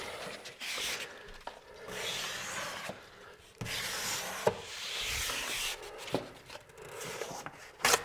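Drywall tape being creased into an inside corner during a bathroom shower renovation, heard as close, steady rubbing and scraping strokes in several bursts with brief pauses and a few sharper ticks, with no voices.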